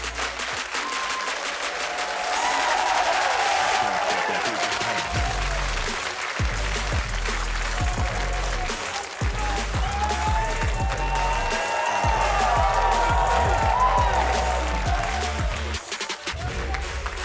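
A League of Legends esports arena crowd at an LCS match cheers and applauds, a loud, dense roar of clapping and shouting that swells and holds throughout, with an announcer's voice faintly heard over it.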